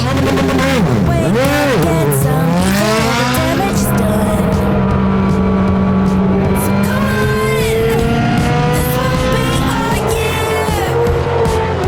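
Race car engine roaring loud and continuous in the iRacing sim, revs climbing and falling through gear shifts with tire squeal mixed in, no voices over it.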